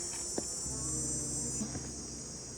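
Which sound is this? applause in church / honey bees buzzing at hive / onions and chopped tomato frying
honey bees buzzing at hive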